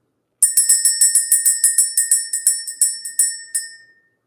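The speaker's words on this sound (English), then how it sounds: "Let's ring the bell." Small bell struck in a quick, even series of about fifteen bright metallic rings that gradually slow and fade, heard close and clear with no talk.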